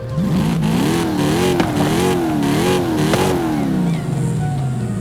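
A Dodge Magnum SRT8 engine revs in the racing game Forza Horizon 5. The loud, continuous engine note rises and falls in pitch several times, then settles into a lower drone.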